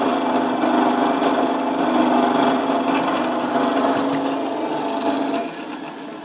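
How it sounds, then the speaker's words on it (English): A steady, loud high-pitched whine of a small electric drill running continuously, easing slightly toward the end. "Just drill through there."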